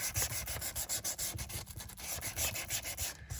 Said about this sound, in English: Let's sand